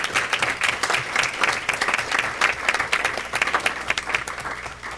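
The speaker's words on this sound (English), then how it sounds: "Can we give them a round of applause?" Audience applause at a school district board of education meeting honoring teachers, a lively crowd clapping with uneven rising and falling bursts, fairly close and loud.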